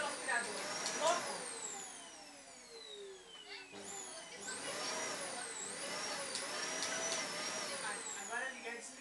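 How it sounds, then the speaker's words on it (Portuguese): A household vacuum cleaner runs with a whining motor whose pitch sweeps up and down as it is switched and handled, and a voice talks over it. "Ele adora aspirador, vai fazer o quê?"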